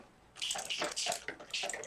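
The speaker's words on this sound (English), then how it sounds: "give it a little water spray" A few quick bursts of water sprayed from a mister onto a sheet of printed paper laid down for collage, quiet hissing pulses close by.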